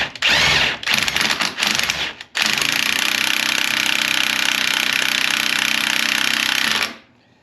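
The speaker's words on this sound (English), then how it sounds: "using an impact wrench on this thing, and I'm able to put some pressure on it and turn at the same time" Impact wrench hammering on a hose fitting during a Taylorcraft aircraft instrument panel repair: a loud, continuous rattling burst, a brief pause near two seconds, then a long steady run of about four and a half seconds before stopping.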